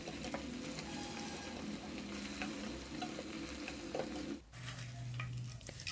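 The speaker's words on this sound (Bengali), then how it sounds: "শুধুমাত্র চিকেনগুলোই ভেজে নেব।" Chicken pieces fry in hot oil with a constant close crackling sizzle and occasional stirring scrapes; the sizzle briefly drops out and returns with a steadier hum.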